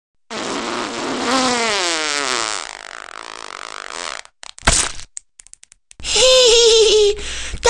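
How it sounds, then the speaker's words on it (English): A wet, spluttering fart-like sound bursts out loud and close, with laughter-like voiced tones rising around it, followed by crackling pops and another sputtering burst. "That sounds like a wet fart"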